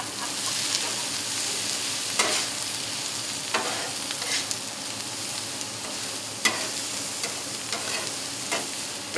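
Hibachi teppanyaki food sizzles steadily on an outdoor griddle top, with a constant crackling hiss broken by occasional sharp spatula scrapes and taps.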